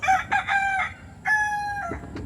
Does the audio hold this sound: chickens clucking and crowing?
yes